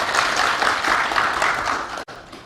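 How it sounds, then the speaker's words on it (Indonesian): A crowd at a public address in Indonesia applauds loudly and steadily, dense clapping throughout, briefly cutting out near the end before resuming. "Ini orang-orang cerdas, tepuk tangan dulu."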